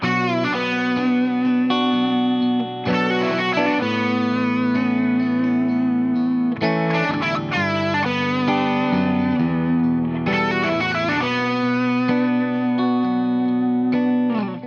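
Distorted electric guitar lead playing second-solo pentatonic licks over a backing rhythm, sustained bent notes and phrases continuous and loud with echo and chorus effects throughout.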